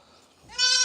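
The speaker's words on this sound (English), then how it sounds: "There is a little handful of goats in here." A goat bleats once inside a stall, a short, close, loud cry that rises suddenly at the end of the moment.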